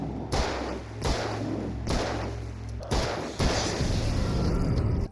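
Heavy gunshots from the video game Alan Wake boom in a slow, regular series of about five loud, separate blasts, each trailing into a dense reverberant tail, with no talk over them.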